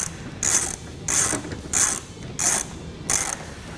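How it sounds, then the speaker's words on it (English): Five evenly spaced bursts of ratcheting as a 5mm hex key tightens bolts through a bracket and spacers on a Jeep Wrangler JK hood, each clicking run close and crisp with short pauses between. "Then tighten both bolts with a 5mm hex key."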